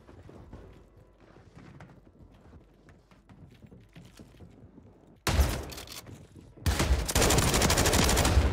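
Fully automatic weapon fire in a Call of Duty Warzone Rebirth Island match, a dense loud burst after quieter in-game ambience, then a second sustained stretch of rapid shots filling the end.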